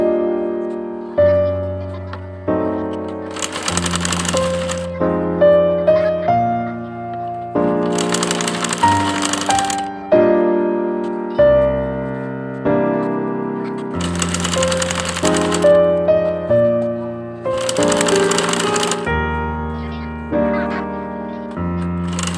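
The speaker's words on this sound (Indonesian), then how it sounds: "Jadi saya sekarang akan menjahit bagian bawah dulu." A sewing machine stitches the bottom hem of a ruffled bed sheet for a bunk bed, running in four separate loud bursts of rapid clatter with short pauses between them.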